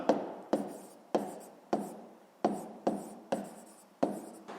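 A pen writing by hand on paper while working a sixth-grade math exercise, close and quiet, about eight short scratchy strokes in a fairly even rhythm.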